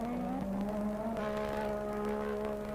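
Formula 1 race car from the 1985 season overtaking on a circuit, a distant engine whine whose pitch shifts as it passes another car over a constant broadcast background.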